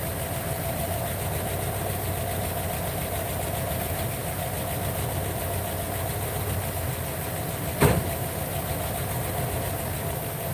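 A Ford F150 engine idles steadily up close, with a continuous low hum and a faint rattle. A brief sharp knock sounds once partway through.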